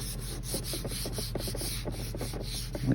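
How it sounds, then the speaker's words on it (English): Hand sanding of repair filler on a leather steering wheel, a quick series of close, rhythmic rubbing strokes, about a dozen back-and-forth scrapes, with no voices. "won't take a great deal of sanding."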